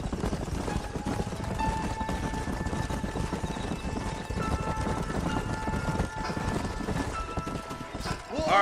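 Horses clip-clop steadily through a Western setting in Red Dead Redemption, hooves thudding fast and continuous under a voice speaking, with a brief sharp sound near the end.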